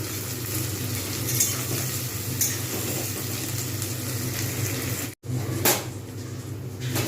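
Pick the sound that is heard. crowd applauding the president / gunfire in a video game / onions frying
onions frying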